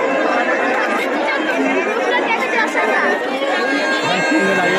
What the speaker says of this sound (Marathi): झालेली गर्दी तुम्ही बघू शकता खाली